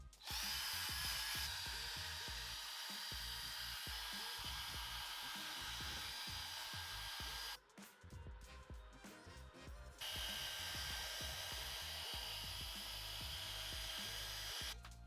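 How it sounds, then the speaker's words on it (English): A power drill with a scrub brush whirs almost continuously close by, scrubbing car floor mats with a rough, rattling texture, dropping briefly in the middle before resuming. "Time to go in with the drill brush."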